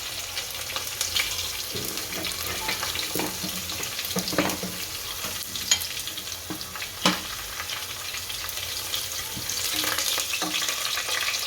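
Curry leaves and dry spices crackle and sizzle in hot oil for a Gujarati spiced rice dish, a steady frying hiss broken by sharp pops and spatters, close and fairly loud with no talk over it.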